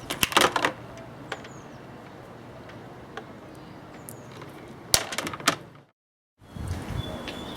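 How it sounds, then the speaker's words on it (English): Short, crisp snips of cutters biting through solar panel wire leads, a few quick clusters of clicks separated by quiet handling noise, close and fairly soft. "I'll cut the wires to the right length"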